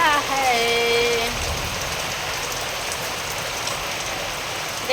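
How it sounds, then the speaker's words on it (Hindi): Steady rain pattering on a surface on a day when the sun is also out, a dense, even hiss lasting throughout, with a brief whistling tone early on and no voices. "बारिश भी हो रहा है।"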